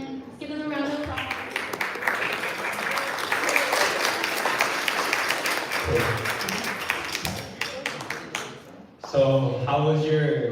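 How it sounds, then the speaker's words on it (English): Students and guests at a youth policy summit applaud a presenting group, steady dense clapping for several seconds that thins out and gives way to speech near the end. "Let's give them a round of applause."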